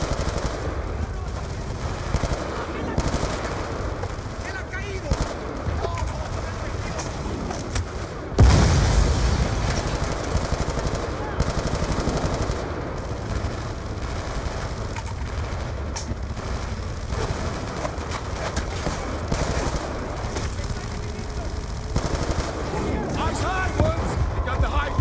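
A heavy machine gun mounted on a balcony firing in Call of Duty Black Ops II, sustained loud bursts over a constant battle din with a sudden explosion partway through and voices talking throughout.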